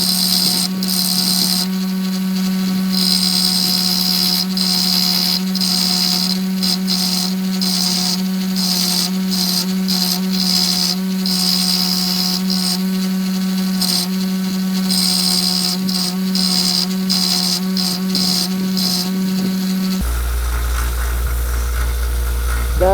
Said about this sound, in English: I'm going to get the other little grinder set up, and then we'll go ahead and start grinding and shaping the handle